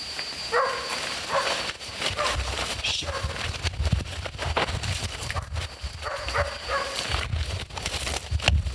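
Hunting dogs bay and bark at a bongo antelope during a hunt in Cameroon, with repeated excited yelps and barks in short bursts over a steady outdoor background and a hint of human voices.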